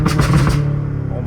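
Straight-piped 650 hp BMW M5 Competition on a mountain road firing a rapid volley of loud exhaust pops and crackles, then dropping to a low rumbling drone.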